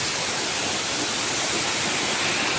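A waterfall pours with a steady, dense rushing hiss, loud and close, with no break or voices.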